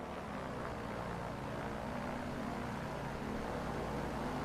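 A small propeller aircraft in Microsoft Flight Simulator takes off in a short-field competition, its engine a steady, loud buzzing drone that holds throughout.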